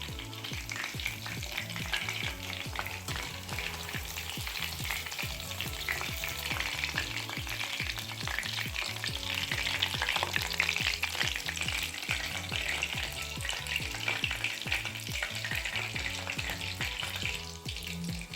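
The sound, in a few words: chicken 65 deep-frying in oil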